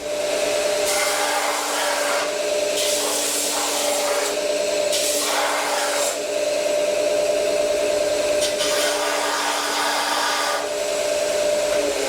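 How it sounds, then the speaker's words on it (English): A power sander works on a 1950 Cadillac hearse, a steady high whine with a tonal hum and intermittent bursts of abrasive scraping as it presses against the metal, close and continuous. "Maybe I'll use the sander."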